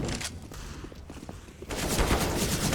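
Dense gunfire from Counter-Strike on the Mirage map, AK and FAMAS rifles firing in rapid overlapping bursts, easing briefly in the middle and then swelling back louder.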